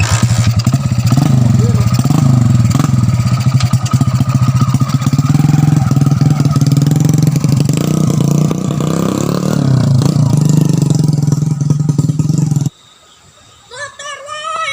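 A motorcycle engine runs loud and steady at close range, holding a continuous low drone with some roughness before cutting off abruptly near the end, after which faint chirpy sounds remain.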